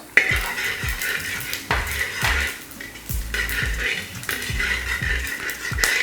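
Whole spices tipped into a hot pan while cooking chicken kondattam, with repeated clinks and scrapes of a utensil against metal over a soft steady sizzle, close and moderately loud.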